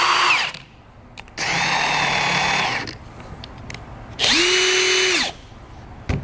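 Two electric impact wrenches spool up in reverse at full operating speed, each giving a sustained high whine of about a second and a half with rising and falling pitch. Quieter clicks and handling noise sit between the bursts.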